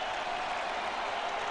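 A college football stadium crowd at a Southern versus Memphis game roars and applauds in a dense, continuous wash of noise, loud and uniform throughout the brief moment.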